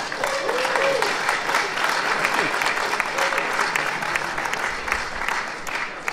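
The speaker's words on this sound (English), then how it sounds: "Thanks for the applause" Conference audience at EVS35 in Oslo applauding after a talk on a megawatt fast-charging simulation, a dense, sustained burst of clapping from many hands that stays loud throughout.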